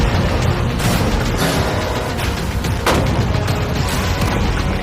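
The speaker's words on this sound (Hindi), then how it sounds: "टैंक्स पैसों पर निशाना लगाकर 20 राउंड फायर करने वाले हैं।" Tank rounds fired at a shipping container full of cash sound as heavy booms and blasts over a loud, dense roar, with a few sharp impacts standing out in a noisy outdoor scene.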